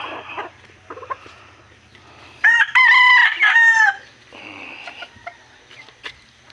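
A rooster crows loudly and close by in a backyard, one long wavering call in the middle, with quieter clucking and yard noise before and after.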